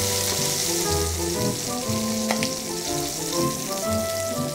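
Skin-side Barbarie duck breast searing in a hot pan on three-quarter heat, producing a steady, dense sizzle and crackle with occasional sharper pops, close and loud throughout with no talking.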